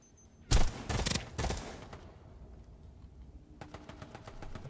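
Bursts of gunfire in the Starsiege Deadzone video game hit the player, three loud rapid volleys close together, followed by a quieter rattle of more distant shots.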